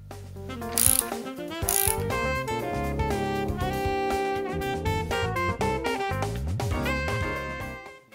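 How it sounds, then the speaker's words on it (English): A ratchet clicks rapidly and continuously while tightening acorn nuts on carriage bolts that secure flat-track hangers to a door, a close, dense mechanical ratcheting with no talk. "Tighten the nuts to secure the hangers to the door."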